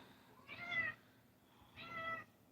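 A mother cat meows twice, soft and fairly close, each meow about half a second long with a quiet pause between, in a calm indoor room.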